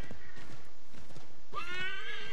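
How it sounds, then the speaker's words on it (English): A horse in the video game Assassin's Creed III, with hooves clopping at a steady gait and then a loud, close whinny near the end. "I'm on a horse"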